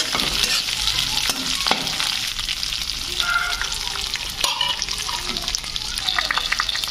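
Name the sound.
stir-frying onion, ginger, garlic, chili and peanuts in a pan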